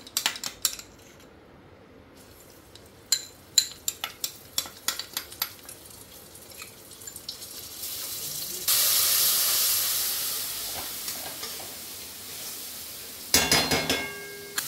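Spice paste hits a hot pan of ghee for a vegetarian sago khichuri and bursts into a loud, steady sizzle and hiss, preceded by a few sharp utensil clicks and followed by more clattering near the end.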